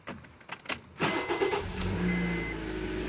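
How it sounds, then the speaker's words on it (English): A 2010 Honda Accord 4-cylinder K-series engine cranks briefly and catches, then settles into a steady idle after timing chain and VTC actuator replacement, close and fairly loud. "No rattling on startup."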